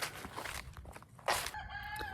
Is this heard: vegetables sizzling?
no